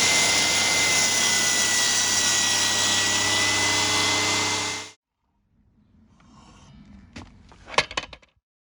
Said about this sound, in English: test your saw with a scrap piece of timber to confirm your cuts are accurate again